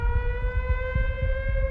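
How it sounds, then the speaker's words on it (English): Tornado warning siren wailing on a steady, unbroken tone with strong harmonics, loud and continuous throughout, with low rumbling wind or traffic noise underneath and no voices. "Sirens went off"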